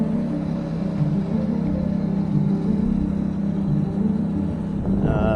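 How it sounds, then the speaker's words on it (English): A Ferrari F430 engine while driving, a steady low rumbling drone from inside the car that swells slightly and rises in pitch near the end. "We are back driving the F430."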